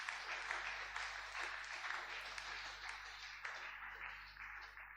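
A church congregation applauding together to acclaim the Lord during a worship service, a sustained wash of clapping from many hands filling the room and slowly fading over several seconds.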